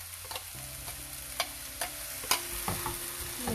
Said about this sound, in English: Mix it properly and fry till methi gets cooked. Now we'll add the gravy that we prepared.